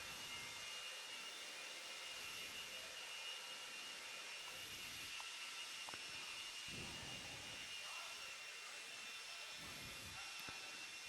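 Leaf blowers run steadily at a dirt race track as marshals clear it, a loud continuous broadband roar with faint thumps and rattles underneath, no talking.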